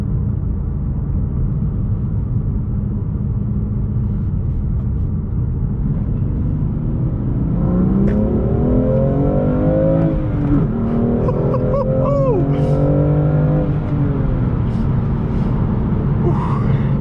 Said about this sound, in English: Kind of love this acceleration and the sound it makes, and the manual shift gearbox.